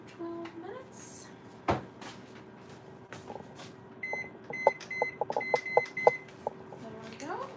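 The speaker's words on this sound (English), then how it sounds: "set the timer for 12 minutes" A kitchen timer being set during a cooking session, giving a run of short, sharp beeps in quick succession, moderately close, over a quiet room background with some clatter.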